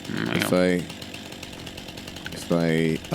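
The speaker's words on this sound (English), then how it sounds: "kudos to the game when you pull out a chainsaw." Chainsaw in the video game Farming Simulator 25, two revving bursts that rise quickly in pitch with a droning idle between them, loud and close, with a voice talking over it.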